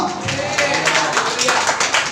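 A church congregation claps hands together in a fast, steady rhythm, a dense patter of many claps at moderate loudness, with a voice speaking over them.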